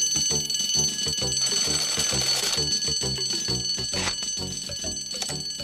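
A bright, rapid bell rings continuously for several seconds as an alarm for a burning allotment potting shed, loud and steady with repeated metallic strikes and no talk.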